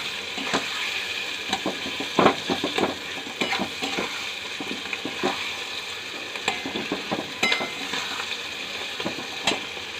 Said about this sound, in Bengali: এইভাবে এবার পেঁয়াজটাকে ভেজে নেব সুন্দর করে